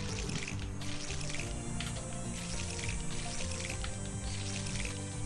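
Crops being watered in the farming video game Monster Harvest, a steady loud splashing pour of water that runs without pause, close and alone with no talk.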